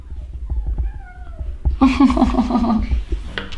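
A person imitates a cat, giving several drawn-out meows, close to the listener, with a bit of laughter between them.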